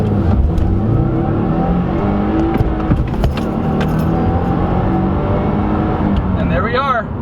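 A 2017 Subaru WRX accelerating hard from 0 to 60, its engine a loud, steady roar that climbs in pitch and stays continuous throughout, with a brief rising whine near the end.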